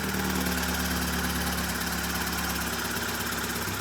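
A BMW car engine idles steadily at low speed while warming up, a constant vibrating hum up close, with no voices.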